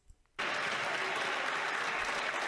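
Loud, sustained applause fills the Canadian House of Commons chamber, starting abruptly after a brief quiet moment and continuing as a dense, steady clatter of many hands.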